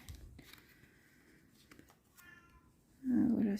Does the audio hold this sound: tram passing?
no